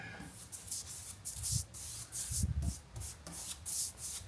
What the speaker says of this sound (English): brush it on there quickly, and then wipe it off quickly